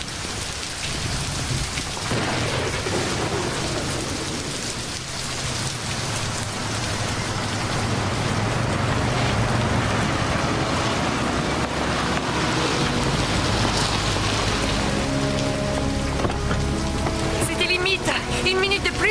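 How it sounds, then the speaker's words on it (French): A heavy storm at sea with loud, steady pouring rain and low rumbling thunder running throughout, with dramatic music swelling in toward the end. "Je vous préviens, cette tempête s'intensifie."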